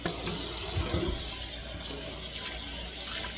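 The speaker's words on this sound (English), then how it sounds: "You want some clean water to rinse it." Warm tap water runs steadily over a cast iron pan being rinsed, a continuous splashing hiss at moderate volume with small shifts as the pan is moved under the stream.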